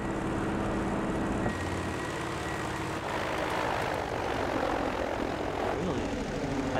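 Aircraft engines roar steadily in the World War II shooter game Battlefield V, a loud continuous propeller-plane drone that fills the whole stretch without speech.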